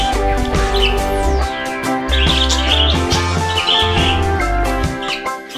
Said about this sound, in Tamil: இதோட வகை பேர் வந்து காரா காக்கட்டு தான்.